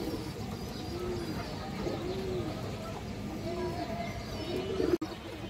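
Pigeons at a seller's loft, including red-geared birds, give repeated low coos at a steady pace through the stretch, fairly close and moderately loud, ending with a sharp click.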